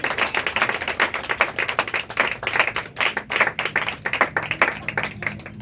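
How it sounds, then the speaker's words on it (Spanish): A church congregation claps hard and fast in a steady, dense burst of applause, loud and close, with no voices heard. "Yo quiero hoy un aplauso bien fuerte para el Señor vuestro Dios"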